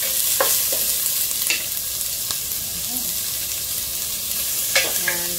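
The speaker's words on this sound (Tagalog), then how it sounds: "Yan, saute lang natin." Onion and garlic sauté in a hot pan for Filipino adobo with string beans, a steady close sizzle broken by a few scraping stirs and light clinks throughout.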